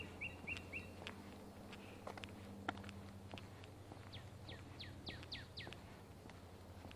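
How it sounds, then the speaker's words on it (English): Florida scrub jays call repeatedly outdoors on Florida's Space Coast, sharp short notes scattered over steady low background hum, some moderately near, none loud. "I hear scrub jays again."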